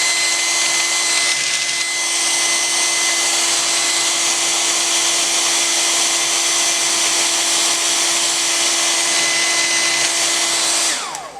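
A hair dryer blows steadily and loudly, drying a glazing painting, a continuous close whir with a high whine that holds for about eleven seconds and then cuts off at the end.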